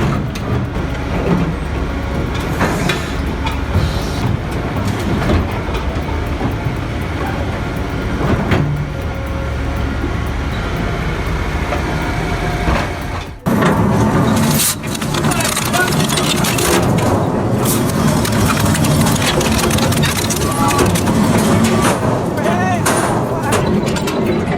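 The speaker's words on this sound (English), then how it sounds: "Each stroke uses calculated torque, breaking structural beams that once carried tons." A CI-7000 hydraulic shredding machine breaks structural beams with a loud, continuous grinding roar and heavy mechanical rumble, a sharp crunching jolt partway through, while a narrator speaks over it.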